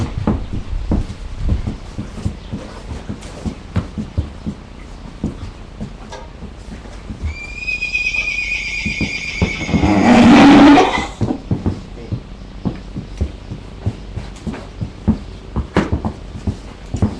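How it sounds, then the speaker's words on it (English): A horse gives a loud, close neigh lasting about three seconds, rising then trailing off, amid clattering and shuffling stable noises before and after. "Puck, I think, is our most rugged of horses."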